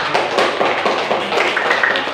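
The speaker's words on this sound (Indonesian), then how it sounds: "Tepuk tangan." Applause in a classroom, a burst of close, fast clapping from a group of students, loud and dense for about two seconds.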